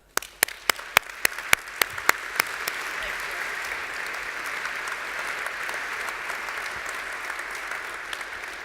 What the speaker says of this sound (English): Aurora, and an applause for her.